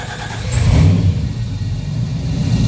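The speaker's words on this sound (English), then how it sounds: "Oh, there goes my engine." Engine of a 3D-printed Lamborghini Aventador replica, cold and just fired up, revs with a steady low rumble and a brief rise in pitch near the start, close and fairly loud with no talking.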